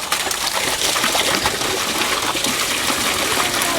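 Waste fluid pours out of a tipped Thetford cassette toilet in a steady, close, rushing gush that holds at a constant level for several seconds.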